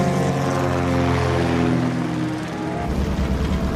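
A small plane's engine and propeller give a loud, steady droning hum with layered tones, continuous and close throughout, the pitch easing slightly near the end, with no voices.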